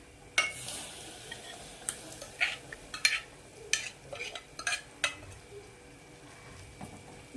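Dal being stirred and sautéed in a pan with black masala, giving soft scraping and clinking strokes at irregular intervals over a faint sizzle, close and moderately quiet.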